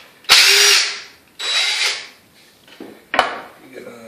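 A Dewalt 20V impact driver fitted with a socket runs in three short, loud bursts, each roughly half a second to a second long, separated by quiet gaps, close to the recorder.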